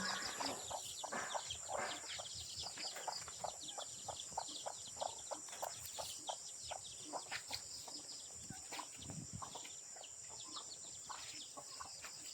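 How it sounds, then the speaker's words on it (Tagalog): Hens and chicks in a free-range coop cluck and peep continuously, many small calls overlapping in an irregular chatter close by, with an occasional louder squawk. "Limang inahin ang nilagay ko dyan sa loob kasama ang kanilang mga sisig."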